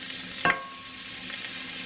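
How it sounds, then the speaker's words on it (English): Chopped bacon and onion sauteing in olive oil in a pan, a quiet steady sizzle with one brief stir or scrape near the start. "I'm going to cook these up a little bit"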